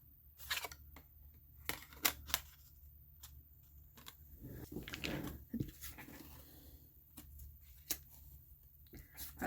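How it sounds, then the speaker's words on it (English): Scissors snip out a white paper rectangle for a card-making craft, giving a series of crisp, close cuts and small rustles spaced irregularly in a quiet room. "I think I would cut the rectangle out in white, which I will do."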